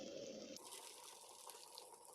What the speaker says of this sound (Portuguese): Eu coloco já a água quente